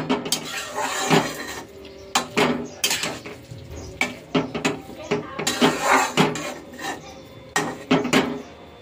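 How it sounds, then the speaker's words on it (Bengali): Ash gourd curry with coriander leaves is transferred from a metal pot into a bowl, with repeated clinks, scrapes and knocks of a utensil against the cookware at close range and faint talk in the background. "তারপরে ঢেলে নেবো বাটির মধ্যে"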